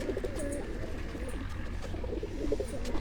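Breeder pigeons kept at a home loft coo steadily in low repeated murmurs, several birds overlapping close by over a constant background hum, with faint chirps now and then.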